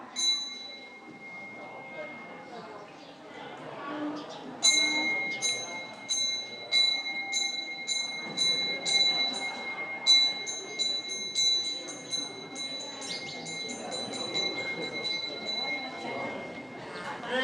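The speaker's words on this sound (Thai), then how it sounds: "ตอนนี้ก็เป็นการซ้อมเคาะระฆังก่อนนะคะ" A temple bell rings repeatedly with clear, sustained metallic tones at a steady pace during a Buddhist exam ceremony, over a background of murmuring voices.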